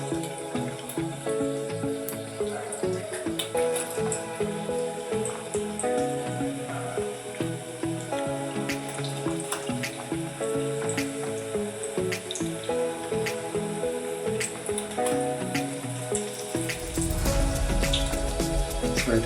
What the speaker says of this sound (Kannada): ಈಗ ಸೋಯಾ ಎಲ್ಲದನ್ನು ಎಣ್ಣೆ ಒಳಗೆ ಹಾಕೊಳ್ಳೋಣ ನೀಟಾಗಿ.